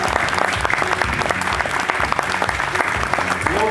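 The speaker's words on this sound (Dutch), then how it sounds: "Nog een geweldig applaus voor onze vaste muzikant" A festival crowd at the Ghent Festivities closing show applauds loudly and steadily, with cheers and a voice over the dense clapping.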